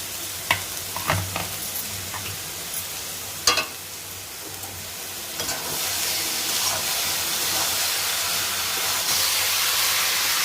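Cooked rice stirred and fried in a pan of melted sugar for paneer fried rice. A few sharp clanks and scrapes of the spoon come first, then a loud, steady sizzle builds and continues to the end.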